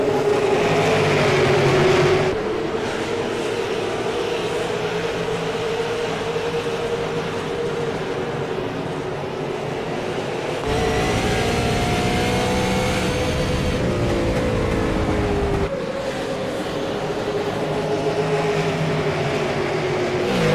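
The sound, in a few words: loud race car engines from the video game iRacing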